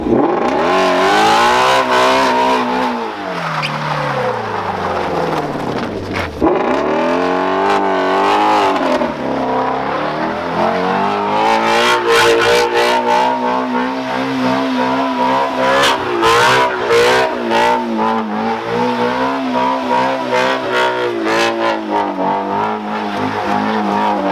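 A Ford Mustang Shelby GT350 V8 revs hard and accelerates, a loud, close, rising and falling engine roar across repeated pulls with crackling bursts toward the end, no voices.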